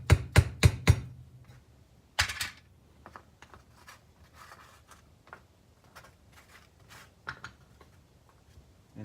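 Scraper hand grip being tapped into place in a workshop: a quick run of four sharp knocks, another crisp strike, then a scatter of lighter taps and small clicks, fairly close and otherwise quiet.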